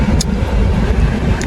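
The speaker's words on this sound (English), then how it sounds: "There's another car" A car rolls past on the road with a loud, steady broadband rumble of engine and tire noise, close by and continuous for the whole moment.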